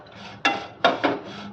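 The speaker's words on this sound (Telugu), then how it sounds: "మిరియాల పొడి, ధనియాల పౌడర్ కూడా వేసి చక్కగా ఇలా మిక్స్ చేసుకోవాలి" Meal maker and egg snack being stirred in a pan with pepper powder and coriander powder, giving three distinct close scraping strokes of a spoon against the pan over a quiet background, with no talk.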